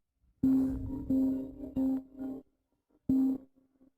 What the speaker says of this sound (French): Le téléphone de mon frère?